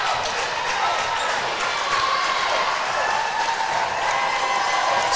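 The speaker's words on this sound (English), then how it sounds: "Ovation here for them." A crowd at a high school basketball sectional final between Mohawk and Arcadia gives a sustained ovation, dense steady applause and cheering filling the gym throughout.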